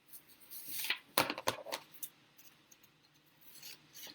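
Scissors snip through folded paper in a few quick, close cuts, with soft rustling of the paper between strokes.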